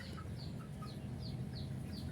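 A flock of three-week-old brooded chickens gives a steady series of soft, high chirping clucks at a regular pace. A low hum sits underneath the calls and no one speaks.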